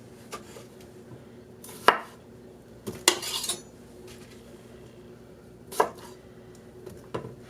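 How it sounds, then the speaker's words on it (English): A knife chops through washed potatoes, halving them on a cutting board, a handful of sharp, close thuds spread irregularly across a quiet kitchen background. "I'm going to go ahead and finish cutting up these potatoes"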